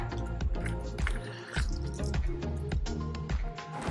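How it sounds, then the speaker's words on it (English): An orange is squeezed by hand, its juice dripping and splattering into a bowl in a quick run of wet squishes and drips up close. "you're going to squeeze the rest of the orange juice in here"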